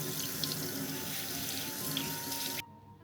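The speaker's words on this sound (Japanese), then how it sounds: "皮ごと使うのでよく洗いましょう" Persimmons with their skins on are rinsed under a running kitchen tap, giving a close, steady splashing rush of water that cuts off sharply just before the end.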